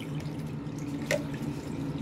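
Dental aligner trays being scrubbed in water at a sink, giving a steady close wash of running water with a faint drip or clink partway through and no talking.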